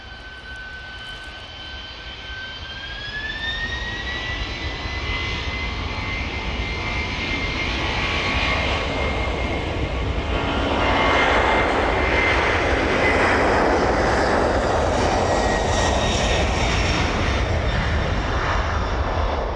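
A cargo jet comes in to land on runway 09 at East Midlands Airport, its engine roar swelling from a steady whine into a loud, broad rumble that stays strong to the end, with no talking.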